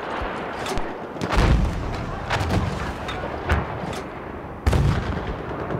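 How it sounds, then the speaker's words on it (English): Mortar fire in a video game match: heavy booming thumps, with two strong hits about three seconds apart and lighter blasts between them, over a continuous rumble of battle noise. "Follow Martifus here on the mortar"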